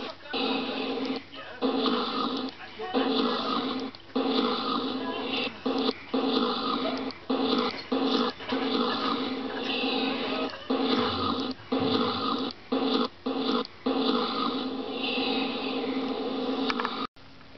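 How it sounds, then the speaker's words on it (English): A cartoon dog snores in a Living Books computer game, a steady run of rough, rhythmic rasping breaths with brief gaps, loud and close, set over bright game music. "Doesn't he snore funny?"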